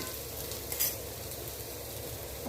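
Elephant foot yam fries quietly in a pan on a low flame, giving a soft, steady sizzle with a brief stirring clink near the start.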